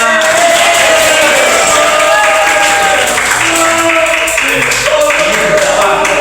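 An audience at an Islamic religious education class applauds loudly, with dense, continuous clapping mixed with crowd noise and some cheering and voices throughout.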